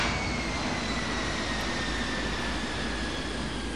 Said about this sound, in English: Looks like the airplane's diving like an Aichi D3A Val, almost.